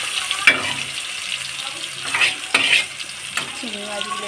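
Marinated prawns coated with black cumin frying over low flame in a pan, a continuous close sizzle broken by several scraping stirs of a spatula.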